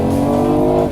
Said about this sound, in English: that 3-cylinder has a great engine note sound